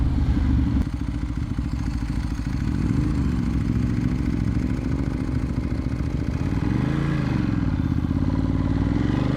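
A Vyrus motorcycle rides past close and loud, its engine droning and rising and falling as the rider revs, with some mechanical clatter under the steady roar and no talk.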